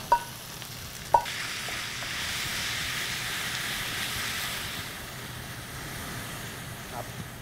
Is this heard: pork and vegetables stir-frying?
yes